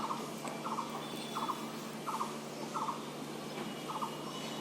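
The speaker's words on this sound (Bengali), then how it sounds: "আমি না পাখির ডাক শুনছি" Among leafy foliage, a bird repeats a short chattering call roughly every half second to second. The calls are faint and distant over a steady background hiss and hum.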